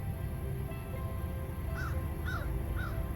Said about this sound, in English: There's literally either a crow or a raven flying.